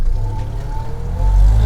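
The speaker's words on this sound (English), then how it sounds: "The thing is, it sounds like a forklift." A 1962 Toyota Stout custom truck engine idling and revving close by, with a steady low rumble that builds toward the end and gives a buzzy, forklift-like tone.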